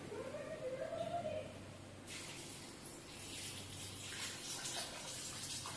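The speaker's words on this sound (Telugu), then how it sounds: "మునిగేలాగా నీళ్ళు పోసుకోండి." Water poured onto chopped banana stem in a pot on the stove until the pieces are covered. A soft, steady splashing rush begins partway through and continues to the end, with a hum underneath.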